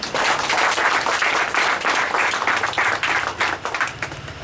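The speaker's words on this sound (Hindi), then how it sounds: "पहला अहमद भाई के लिए एक जोरदार तालियां हो जाए।" Vigorous close applause erupts at an award ceremony honoring journalists and social workers, many hands clapping in a dense, sustained burst that thins slightly toward the end.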